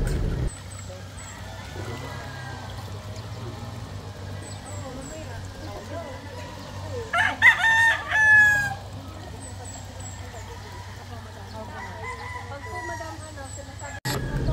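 Gamefarm roosters crowing one after another, a loud close crow cutting through steady clucking and farmyard ambience, with faint rooster calls carrying from farther off.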